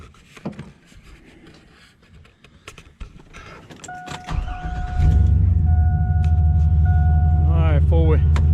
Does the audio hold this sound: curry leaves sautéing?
no